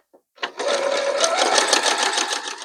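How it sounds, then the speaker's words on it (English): A sewing machine stitches a seam across a quilt block, its motor whirring in a steady, continuous run at close range after a brief tap at the start. "we're going to stitch on that line"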